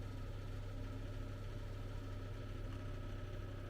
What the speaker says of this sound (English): Sorry for the noise. I got a little electric heater in here.